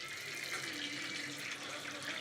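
Running water pours steadily from a tap in a Mumbai home with 24-hour water supply, a continuous broadband splashing rush with no talk over it.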